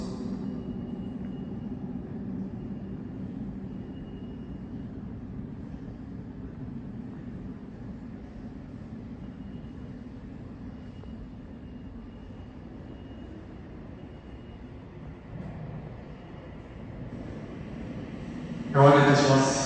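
A steady low rumble of a Tokyo Metro subway train rolling into Shirokane-takanawa Station, with faint announcement voices and a brief louder clatter near the end.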